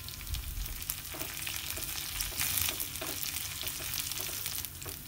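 Curry leaves and chopped shallots fry in hot coconut oil for a Kerala-style chicken curry, giving a loud, continuous crackling sizzle with occasional stirring scrapes.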